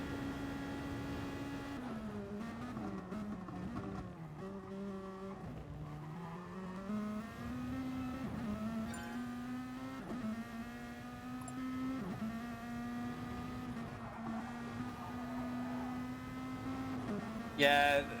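Synthetic-sounding race car engines in the video game GT Sport whine and rev up and down repeatedly, shifting pitch through gear changes, with a short squeal at the end.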